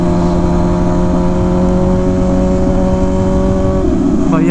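Rush car with a loud custom exhaust mounted high, idling with a steady deep drone and strong low harmonics, close and loud, a brief change in pitch near the end.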